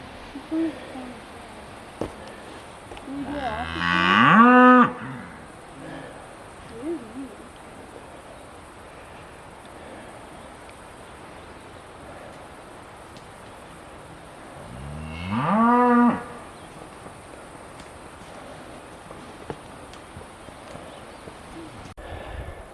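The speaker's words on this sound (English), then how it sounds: "More cows in the shadow." Cattle on an open hillside in Teton Valley, Idaho, give two long, drawn-out moos about ten seconds apart, heard at a moderate distance over quiet outdoor background.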